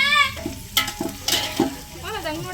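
Onions and spices frying in a pan for mutton biryani, with a steady sizzle broken by a few sharp stirring scrapes and clatters; a voice sounds briefly in the background.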